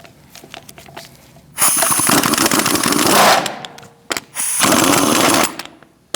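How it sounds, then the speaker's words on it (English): Pneumatic impact gun with a 19mm socket spinning off the hubcap and lug nuts on a 2016–2019 Chevrolet Cruze, two loud sustained rattling bursts of about two seconds each with a short gap between. "Using a 19mm socket, we're going to remove our hubcap and lug nuts."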